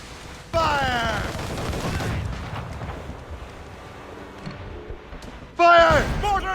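Cannon and mortar fire during a naval battle in Assassin's Creed Rogue, heavy booming blasts with rumbling between them, loud and close, while crew voices shout over the barrage.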